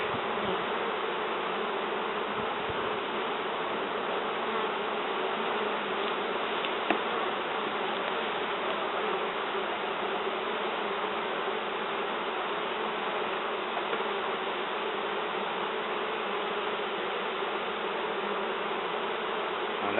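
A dense, continuous buzzing of many honey bees nesting in a sofa, steady and close, with no voices.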